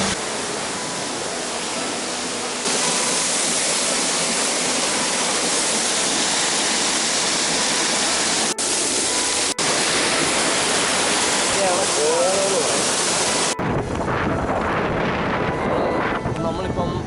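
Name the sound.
waterfall in Munnar, Kerala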